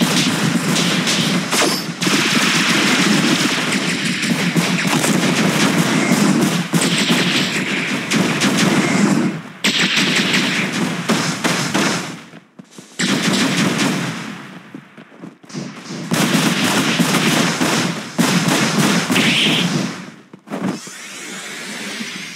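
Dense gunfire from a PUBG Mobile match, with bursts of rapid automatic shots and heavy reports that run almost nonstop and break into a few short pauses. Loud and close, with no talk.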